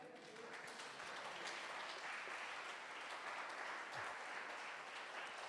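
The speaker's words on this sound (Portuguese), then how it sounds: "Você pode aplaudir o Senhor por isso?" Applause from a church congregation during a sermon, a faint and distant wash of clapping that holds evenly for several seconds.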